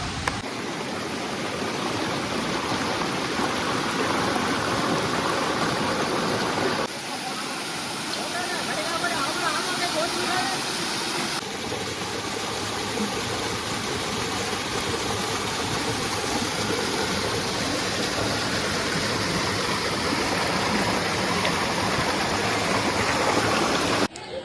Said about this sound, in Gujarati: જટાશંકર નદીમાં પ્રવાહ ખૂબ જ અત્યારે સારો છે